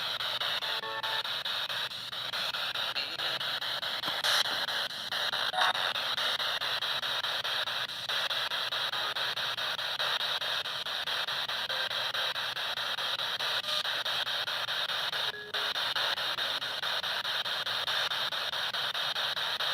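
Continuous hissing static from a spirit box radio scanning in a reputedly haunted school, with rapid scanning blips and brief tonal fragments flickering through, steady and moderately quiet throughout.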